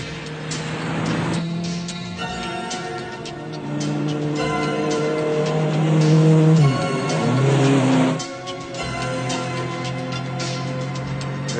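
Car driven hard in an action film, engine revving loud and close through several gear changes, with a rising and falling whine and a brief squeal of tires.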